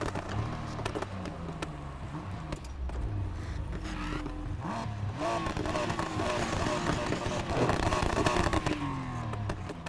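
A Nissan R32 fitted with a VR38 engine revs in the racing game Need for Speed Heat, its engine note rising and falling steadily within busy, dense game audio with no pause.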